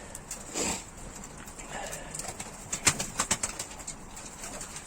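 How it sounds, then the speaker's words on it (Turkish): Pigeons peck and scratch at scattered feed on a hard surface, with light tapping clicks and a brief flutter of wings nearby. "Şimdi biraz atalım. Yemi kuşlar yesin."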